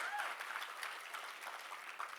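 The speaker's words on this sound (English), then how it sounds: "Yes, I think that all deserves applause." Audience applause at the Knoxville State of the City address, a steady wash of clapping from a crowd that holds evenly through the whole stretch, moderately loud with no talk over it.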